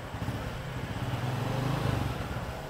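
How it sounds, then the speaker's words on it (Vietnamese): A Honda Future X 125 fuel-injected motorcycle, its engine fully rebuilt after ten years of use, idles just after starting. The engine gives a steady, smooth, quiet hum from close by, with no talk over it. "Rồi giờ quay sát vô tiếng máy nổ này, bấm một cái là nổ"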